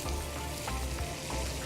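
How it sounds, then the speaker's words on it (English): A continuous crackling sizzle of meat frying in a hot pan, close and steady, with no voices, at a county show kitchen. "So instantly when I put it in, there's that sizzle"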